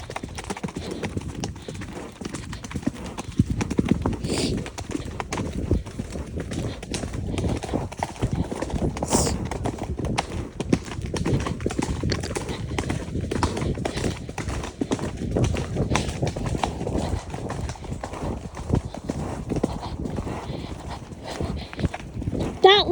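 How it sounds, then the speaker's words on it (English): Horse cantering, with a steady rhythmic clip-clop of hooves running throughout, moderately close, while people talk over it and a brief whinny or call cuts through. "That looked like the most comfortable canter."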